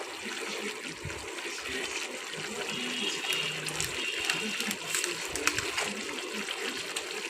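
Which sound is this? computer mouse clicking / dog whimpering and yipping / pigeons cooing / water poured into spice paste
water poured into spice paste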